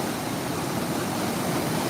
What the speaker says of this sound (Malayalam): ഷട്ടറാട് തുറന്നപ്പോഴേക്കാം മഴവെള്ളപ്പാച്ചിൽ എന്താ വെള്ളം വലതാ